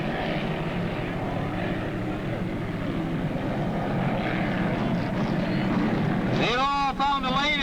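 Hydroplane race boats circling the course near the marker buoys, a loud sustained engine drone with a rising whine at the end, a commentator talking over it.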